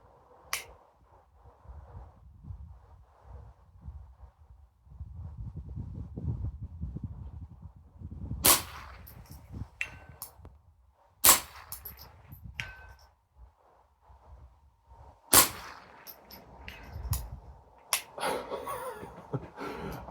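Several sharp gunshot cracks from a Ruger Charger pistol firing at targets past 220 yards, spaced several seconds apart outdoors, with wind noise and faint rustling between the shots.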